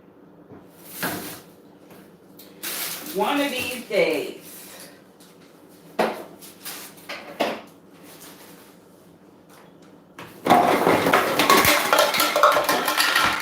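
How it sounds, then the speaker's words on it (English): An old kitchen cupboard that is falling apart rattles and clinks with dishes and cutlery, in scattered bursts and then a loud, sustained clatter at the end, with someone speaking briefly between the noises. "ignore all the noise. That's my cupboard falling apart."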